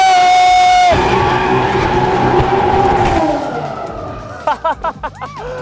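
A supercharged car drifts around a Christmas tree, its engine droning loud and steady as tires skid and squeal, then the noise fades into a few sharp whoops and cheers at the end.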